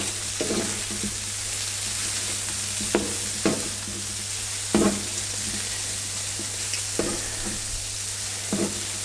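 Chistorra sausage and pieces of pork loin fry in a pan, giving a steady, close sizzle throughout. Sharper spits and crackles pop out at irregular moments over a constant low hum, with no talk.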